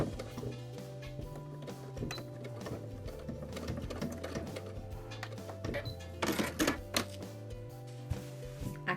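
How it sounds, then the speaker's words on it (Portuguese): A sewing machine runs steadily, stitching fabric for a small car trash bag with a one-centimetre seam. It hums and rattles continuously and up close, with brief louder bursts of faster stitching near the end and no voices. "Abaixa a peça e continua a costurar."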